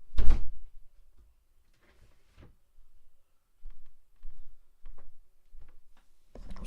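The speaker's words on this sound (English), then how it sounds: "Well, I was opening the door." A door is opened indoors in a quiet room: a sharp thunk, then a series of soft clicks, knocks and latch taps spread over several seconds, ending with another firm bump.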